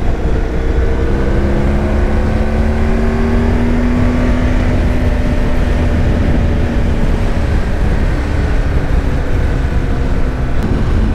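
A motorcycle rides along a road with a steady engine drone and rushing wind noise, the pitch shifting slightly as it cruises, loud and continuous.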